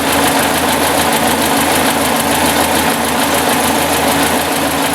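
A 1954 Ford Jubilee NAA tractor engine, newly fitted with a Pertronix electronic ignition conversion, idles loud and close with a steady, even, rumbling chug throughout and no talking.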